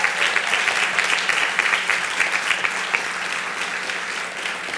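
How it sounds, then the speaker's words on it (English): An audience at an awards event in Miami applauds, a dense, steady wash of clapping that holds for the whole stretch and fades slightly at the end. "Let's give them another round of applause."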